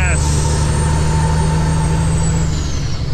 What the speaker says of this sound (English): Sounds of the turbo. The stacks.